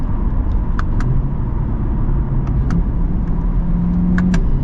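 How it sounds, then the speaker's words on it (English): A 2024 Chevy Corvette Stingray Z51 is heard from inside the cabin while accelerating, with a steady, loud engine drone and faint clicks throughout. The quick gear shifts are not clearly audible, and no one talks. "Pop it into manual too while we're at it. So quick with the shifts."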